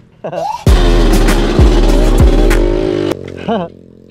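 A worn vehicle engine with a loose exhaust and chassis runs loudly with a rough, rattling drone for a few seconds on a trail, and a voice is heard briefly before and after.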